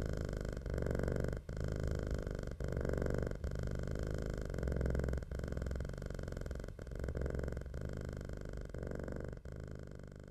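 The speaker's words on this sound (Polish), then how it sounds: "kocie mruczenie jest najlepszym lekarstwem na stres" A cat purrs steadily and close up, a low rhythmic rumble that pulses in breaths with brief gaps between them, continuing without pause for about ten seconds.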